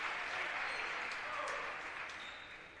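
Crowd applause fills an arena during a conference tournament semifinal basketball game, a steady, dense clapping that swells and then gradually fades toward the end.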